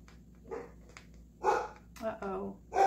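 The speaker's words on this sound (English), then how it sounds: "Maggie's barking. Somebody must be walking by." A border collie barks in a few short, sharp bursts nearby, with some irregular spacing between barks.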